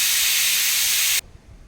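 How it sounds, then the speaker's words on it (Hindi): A pressure cooker boiling potatoes lets out a loud, steady steam whistle hiss that cuts off abruptly, leaving a quiet kitchen background. "कुकर सीटी देने लगी थी क्योंकि मैंने आलू चढ़ा रखा है।"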